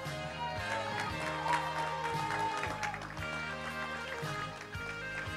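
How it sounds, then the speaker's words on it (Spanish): A school graduation crowd in Arecibo, Puerto Rico, claps and cheers at a steady, moderate level, with a distant announcer's voice and music mixed in. "Un fuerte aplauso para Kiara."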